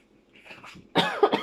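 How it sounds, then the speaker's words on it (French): A person with asthma coughs in a few harsh, close bursts after a quiet stretch of faint rustling, with no speech. "j'ai une petite toux comme ça là, due à l'asthme"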